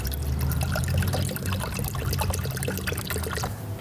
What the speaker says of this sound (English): so I'm just gonna mix in some water with that.